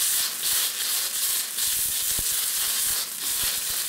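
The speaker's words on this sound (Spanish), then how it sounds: "dejamos que fríe un poco eso ahí" Tacuquinua, a quinoa cake, sizzles and fries steadily in a pan, a close, constant hiss with faint pops and crackles throughout and no talking.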